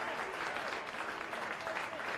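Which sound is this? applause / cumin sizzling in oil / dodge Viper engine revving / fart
applause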